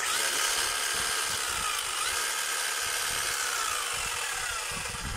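Hammer drill running under a repair test, a loud continuous whirring motor with a rapid rattling hammer action, steady and close throughout.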